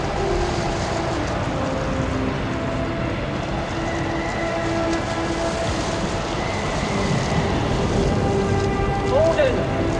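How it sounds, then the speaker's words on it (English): Heavy drizzle at a cricket ground makes a steady, dense hiss for the whole stretch, moderately loud and even, with a faint background tone and no talking. "It's heavy drizzle at the moment."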